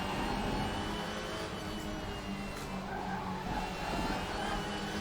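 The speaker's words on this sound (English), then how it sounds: "We're trying not to scrub our tyres too badly." Race cars in the RaceRoom game's WTCR series at Spa roar continuously at high revs, with tyres scrubbing and squealing through the corner, loud and sustained with no one talking.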